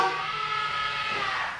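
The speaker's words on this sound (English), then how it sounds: "just like a honking sound" A Tesla's default door-lock honk, a steady electronic horn-like tone with layered harmonics, sounds for under two seconds, then fades at the end.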